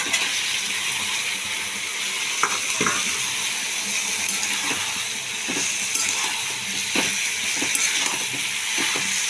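Banana flower goes into tomato frying in a pan, giving a continuous close sizzle with occasional stirring scrapes and small pops, no voices over it.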